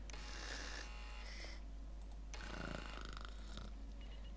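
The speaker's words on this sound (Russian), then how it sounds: "такой звук храпа" Snoring sound effect from the city-building game SimCity, a loud, buzzing rasp in two long bursts separated by a short pause, heard alone with no voices.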